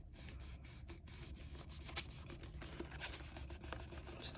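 Soft, continuous rubbing of glued paper rose petals, a quiet papery scratching with faint irregular strokes.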